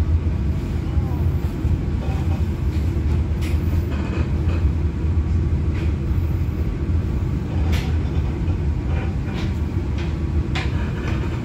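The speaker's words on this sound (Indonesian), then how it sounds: "perjalanan kereta api Dharma Wangsa Express saat ini masuk stasiun pemberhentian pertamanya" The Dharmawangsa Express passenger train in Indonesia rumbles into a station with a low, steady rolling drone and occasional metallic clicks and squeaks, with no clear talk.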